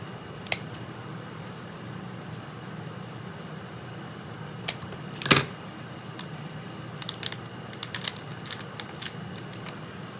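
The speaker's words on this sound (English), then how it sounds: "Take my scissors." Scissors snip ribbon for a small bow in a craft setting: a few sharp isolated clicks early, a louder crisp cut in the middle, then a cluster of quick light snips over a quiet steady background hum.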